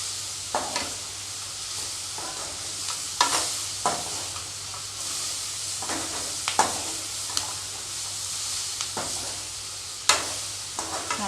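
Coconut pieces stirred and lightly fried in a pan for chutney: a continuous low sizzle broken by repeated sharp scrapes and clicks of a spoon against the pan at irregular intervals.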